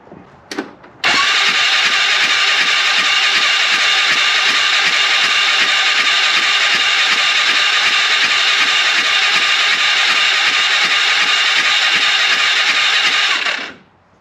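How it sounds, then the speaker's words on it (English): An Arctic Cat Prowler UTV engine cranks continuously for about thirteen seconds, a loud, steady mechanical whir with a fast pulsing rhythm, cutting in abruptly and trailing off at the end, with no voices over it. "All right, let's see what happens when we crank it."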